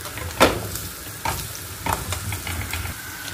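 Ground spices with garlic fry in a pan with a continuous close sizzle, broken by several sharp scraping strokes of a spoon stirring the mixture, with no voices.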